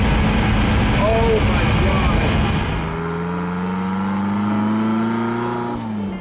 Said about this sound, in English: the engine is just such a beast, and it roars